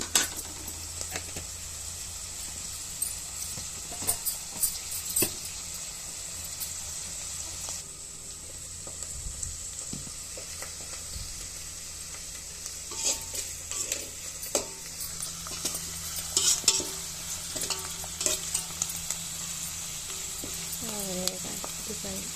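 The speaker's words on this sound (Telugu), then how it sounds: "ఉప్పు ಉಪ್ಪು వేసి ఉల్లిపాయలు తొందరగా మగ్గుతాయి" Onions and green chillies fry in oil in a pan on a gas stove for a country chicken curry, giving a continuous soft sizzle with occasional stirring scrapes and faint clinks, close and moderately loud.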